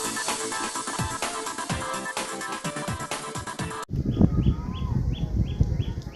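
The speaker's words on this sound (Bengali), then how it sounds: "আর কত সুন্দর পাখি ডাকছে শুনুন।" Birds chirp and tweet outdoors by a tidal river in the Sundarbans, with a burst of wind noise rumbling through the second half.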